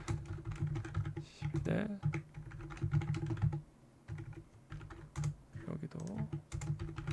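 Keys on a computer keyboard are tapped in quick, close bursts while deleting a network switch command. The clicks are separated by brief pauses, and someone speaks briefly.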